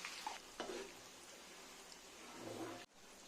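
Curry leaves, garlic and asafoetida sizzle in hot oil for a mango pickle tempering, a faint, steady crackling fry with soft spatters and a stir or two before a sudden stop.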